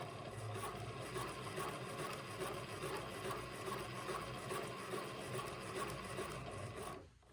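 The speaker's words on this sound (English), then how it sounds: "center feed dog on this Elna 9000 sewing machine" An Elna 9000 sewing machine runs steadily, its needle stitching tucks in a fast, even mechanical rhythm before stopping abruptly at the end.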